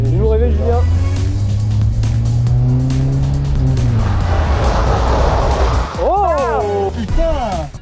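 A Renault Clio 1 on a handbrake parking attempt, its engine revving and winding down with tire squeal and hissing skid noise before the motor cuts out, loud and close, with people talking over it.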